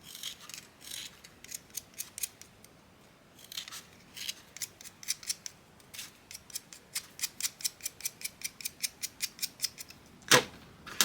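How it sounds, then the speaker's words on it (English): A craft knife shaves a colour pencil in quick, crisp scraping strokes, rhythmic bursts of cutting that come in fast runs with short pauses, close and fairly loud, ending with a sharper snap. "what I like to do is use a craft knife to sharpen them"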